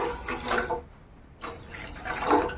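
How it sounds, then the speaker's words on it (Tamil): Water poured from a cup into a pot of sugar: a close, steady splashing stream, a short pause, then a second pour that swells louder toward the end. "அதே கப்பில் 2 கப் அளவுக்கு தண்ணி சேர்த்துக்கலாம்."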